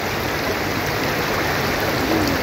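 River water rushing over rocks beside a campsite in Sentul, Bogor, a steady, close, broadband flow with no voices.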